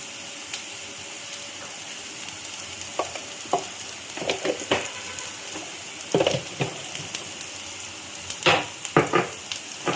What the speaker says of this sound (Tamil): இப்போலாம் வதங்குது